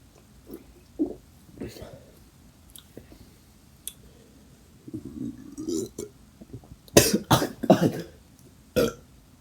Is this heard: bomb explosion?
no